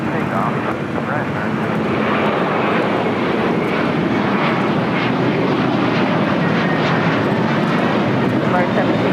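An airliner's engines roar continuously and loudly during takeoff at LAX, a broad sustained rumble with a steady build and no breaks.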